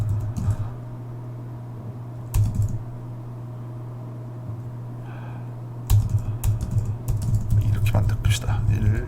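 Quick bursts of typing on a computer keyboard while writing code, with clicky key presses coming in clusters and gaps between them over a low steady hum.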